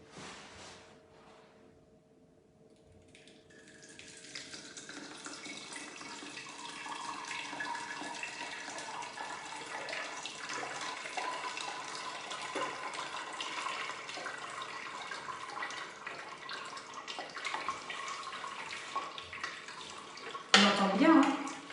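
Juice poured through the basket of a Thermomix, a steady liquid trickle and splash that builds after a quiet start and runs on at moderate level, ending with a brief clatter.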